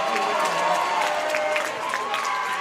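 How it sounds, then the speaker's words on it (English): A high school varsity basketball bench, South Christian, rises and cheers from the gym: a steady, loud wash of crowd shouting and clapping with scattered yells throughout. "the bench getting up on South Christian's side to cheer on the heads-up play there"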